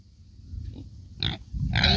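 Low snorting grunts from pigs, close and rough, come in short bursts amid a low rumbling background before a storm.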